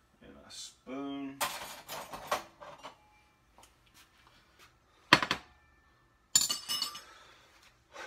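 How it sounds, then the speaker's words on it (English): A bowl and spoon are picked up and set down, giving a few bright clinks and knocks of dishware with short gaps of quiet, close by, with a person speaking briefly at the start. "Let me grab a bowl here and get ready to eat. And a spoon."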